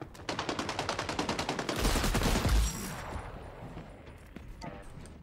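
Rapid automatic gunfire from a shooter in the video game XDefiant, a steady rhythmic burst of shots followed by a louder blast and fading echoes, with a voice talking over it.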